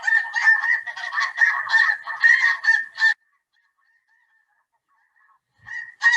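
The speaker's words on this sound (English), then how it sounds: "they also have an amazing sound in this huge flock as they fly around" A recording of a huge flock of geese calling in flight, with dense overlapping honks for about three seconds, then near silence before a few more honks return, loud and without talking.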